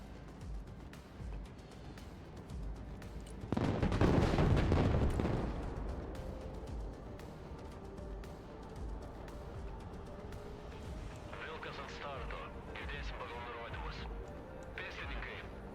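A Leopard tank fires in the video game Broken Arrow: one heavy, booming blast that rumbles and fades over about two seconds, followed by quieter battlefield sounds.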